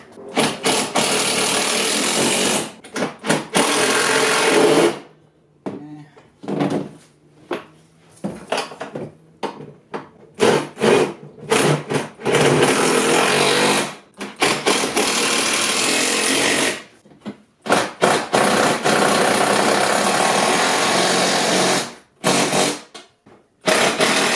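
An impact driver tightens bolts on the foot pan of a 2006 Club Car DS 48-volt electric golf cart, firing in loud, harsh rattling bursts separated by short silent pauses, close up with no talking.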